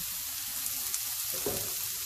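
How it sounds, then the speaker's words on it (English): Orange bell peppers sauté in a pan at home, giving a steady, soft sizzle and crackle throughout, with a brief stir or scrape near the end and no talking. "I'm gonna saute these up."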